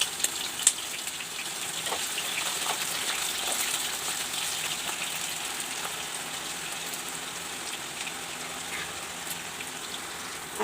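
Potatoes frying in a pan for a home-cooked dish give off a steady, hissing sizzle, like rain on a surface, with a few sharp crackles and pops near the start and no talking.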